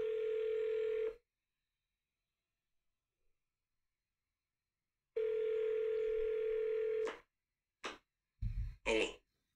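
A telephone dial tone sounds steady and clear for about a second, falls silent for several seconds, then returns for about two seconds while calling a random person, followed by a few short clicks and a throat-clearing noise.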